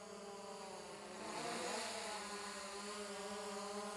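A DJI Mavic Pro drone flies nearby with a continuous high-pitched whine of its propellers, steady and fairly loud, swelling slightly midway as it is piloted back toward the controller.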